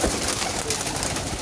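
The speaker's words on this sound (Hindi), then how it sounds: "शबीर साहब के कबूतर" Pigeons coo in a loft, a soft, continuous murmuring close by with rustling around it, and faint voices in the background.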